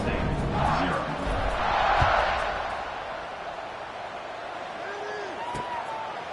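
Stadium crowd cheering in the College Football 26 video game during a home-team blowout, a broad swelling roar that peaks and then settles into a steady wash, with faint whistle-like tones near the end.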